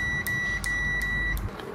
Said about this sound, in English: I'm going to test for the continuity by the buzzer.